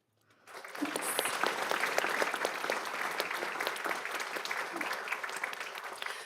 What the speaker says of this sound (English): Let's go ahead and give them one more round of applause.